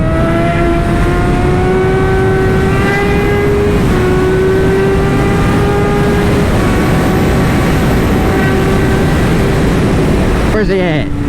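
A go-kart races beside a motorcycle: a loud, steady engine drone with a rising pitch runs throughout, close and continuous, and someone speaks briefly at the very end.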